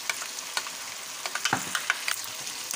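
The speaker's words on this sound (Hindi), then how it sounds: "तो ये मसाला मैंने ऐड कर दिया। मैं इसे अच्छी तरह मिक्स कर लूँगी।" Chicken and masala sizzling in a karahi while being stirred, a steady bright frying hiss broken by irregular scraping and clattering strokes of a spoon against the metal, close and fairly loud.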